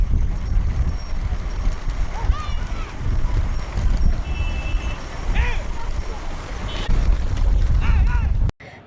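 Bullock cart race on a road in Sivaganga with 68 pairs of bulls, hooves pounding and carts rattling in a steady loud rumble, with shouting crowd voices and occasional whistles over the din.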